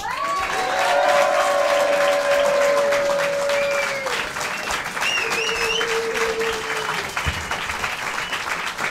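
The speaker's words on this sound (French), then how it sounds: "Je vous demande d'applaudir Monsieur Marcel Philippot." A studio audience on the French TV show Kandidator breaks into loud applause and scattered cheers for a guest, dense clapping that swells early and slowly thins, with tonal sounds drifting over it.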